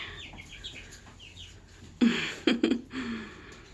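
Short clucks and squawks from a rooster among chickens, a quiet stretch first, then louder clustered calls near the end, with soft chirping in the background.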